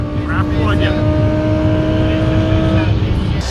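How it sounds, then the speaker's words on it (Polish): A Skoda Octavia's 1.8 TSI petrol engine runs with a close, steady hum and a faint rising whine, while someone talks over it the whole time. "Jest to silnik, który ma bardzo duży potencjał do tuningu."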